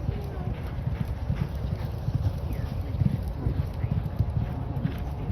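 Thoroughbred horses' hooves clip-clop steadily on the ground at a training facility in Louisville, a continuous mid-distance rhythm of many hoofbeats under a low outdoor rumble.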